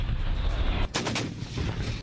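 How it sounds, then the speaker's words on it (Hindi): A few sharp gunshot cracks from Armenian and Azerbaijani troops near Nagorno-Karabakh ring out over a steady low rumble, brief and distant-sounding. "उसके सैनिकों पर अंधाधुंध गोलियां चलाई।"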